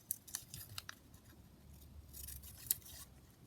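Scissors snip through a small paper label piece for a junk journal at a desk: a handful of quick, crisp, quiet cuts close by over a faint room hum.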